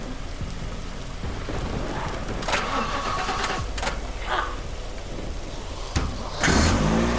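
A car engine starting in the zombie video game The Last Stand Aftermath, with a cranking and then a rumbling idle near the end, set against steady rain and thunder cracks.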